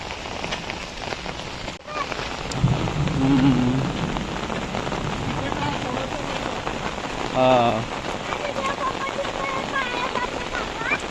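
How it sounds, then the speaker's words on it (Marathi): Steady monsoon rain in Konkan patters on a surface throughout, a dense continuous hiss with a few voices briefly audible in the background. "उद्या बघा गडगडतो पाऊस ढगांची कडगडाट"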